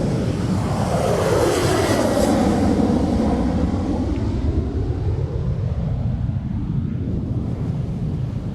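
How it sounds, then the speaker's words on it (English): A Ryanair jet airliner powers up for takeoff, a loud roaring engine whine building then sweeping downward as it passes and recedes, heard from outdoors with no voices. "Now we've got a Ryanair just powering up."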